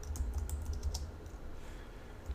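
Quiet, rapid clicking of keys on a computer keyboard while code is typed, an irregular run of light taps close to the microphone with no talking.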